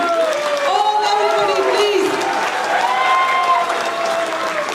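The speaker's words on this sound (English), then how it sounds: "please give a big hand and applause to the Bharat Jodo Yatra" A crowd at a Rahul Gandhi diaspora gathering in Hounslow, London applauds the Bharat Jodo Yatra, loud sustained clapping blended with cheering and raised voices throughout.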